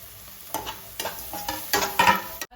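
Close-up sizzle of onions frying with turmeric and salt in a pan, broken by several scraping spatula stirs, with no talking.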